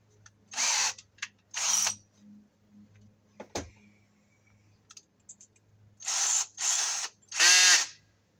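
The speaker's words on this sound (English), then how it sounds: "I'll screw this in here so it's fastened to the wall." A power drill driving a screw to fasten an outdoor outlet box with PVC conduit to a wall: several short whirring bursts separated by pauses, with a sharp click in between, close and fairly quiet.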